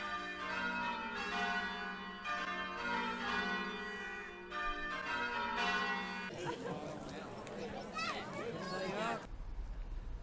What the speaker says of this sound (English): you'll be able to hear the bells at Croft Church.